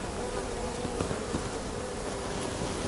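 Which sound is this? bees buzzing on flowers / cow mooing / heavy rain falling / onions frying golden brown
bees buzzing on flowers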